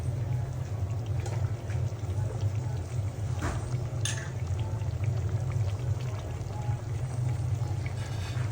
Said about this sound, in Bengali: এখন আমি কিছুটা গরম পানি দিয়ে দিব